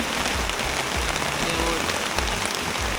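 Rain falling at an outdoor river stone-work site, a loud dense patter of drops on surfaces forming a steady hiss, close and continuous, with some faint low-level noise beneath.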